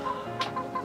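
Brakel chickens clucking nearby; a few short clucks and soft calls in quick succession over a low farmyard background, without talk.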